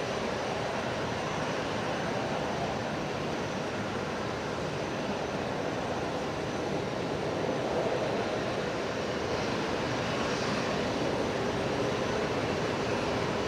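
Boeing 737 MAX 8 on approach to runway 01 right at Brisbane Airport, a continuous broad jet engine roar that holds steady at moderate distance with no distinct peaks, no speech.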